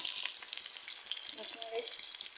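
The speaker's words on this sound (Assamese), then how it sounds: "ইটাতে ৰিফাইন দিম আৰু পকৰিখিনি ভাজি ল'ম" Chicken pakoras sizzle steadily as they deep-fry in hot refined oil, a constant crackling hiss with no voices.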